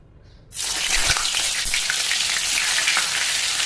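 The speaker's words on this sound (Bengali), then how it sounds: "আমাদের এখানে তেল গরম হয়ে গেছে, এবার আস্তে আস্তে ফুলকপিগুলো ছেড়ে দেবো" Cauliflower pieces slide into hot oil, bursting into a loud, steady sizzle after a quiet start, with a few soft thuds as pieces drop in and the hiss holding strong to the end.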